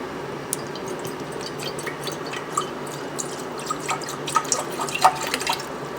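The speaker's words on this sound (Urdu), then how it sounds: "اور اب ہم نے اس کے اندر ڈالنا ہے 1/2 لیٹر پانی" Half a litre of water poured into a saucepan on a stovetop, a soft running trickle with scattered drips and splashes that build slightly toward the end, no voices.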